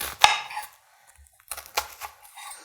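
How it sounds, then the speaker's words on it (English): A sharp kitchen knife slices into an onion for smoked turkey soup, giving one loud chop near the start, then a quiet gap and a few softer cuts against a board later on, with no talking. "you take a really good knife like this that's sharp, and you cut into your onion this way"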